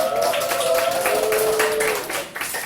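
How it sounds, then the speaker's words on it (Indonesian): A classroom of students applauds together at the end of a lesson, a steady moderate patter of many hands clapping close by, with a tonal hum running beneath and tapering off near the end. "tepuk tangan untuk kita semua pada hari ini ya"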